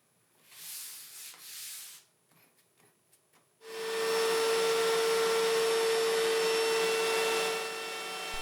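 A router with a short bit cutting into the wooden body of a custom multi-scale Strat guitar, with a few light rubbing scrapes and clicks first, then a loud, steady whining motor roar that holds to the end.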